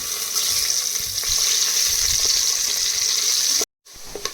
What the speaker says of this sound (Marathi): आता तेल गरम झालेलं आहे, त्याच्यामध्ये थोडे जिरे टाकून घेतले. नंतर उभा चिरलेला कांदा टाकून घ्यायचा.